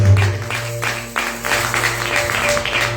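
A church congregation claps together during a lively worship service, a dense, steady wash of applause over a low sustained hum of instruments that continues throughout.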